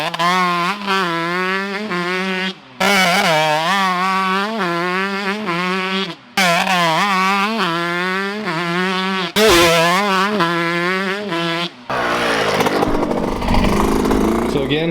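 A Yamaha YZ125 two-stroke dirt bike with an FMF exhaust revs hard in a backyard, with repeated loud rising and falling throttle blips and brief pauses between them, close to the listener, ending in a rough noisy stretch.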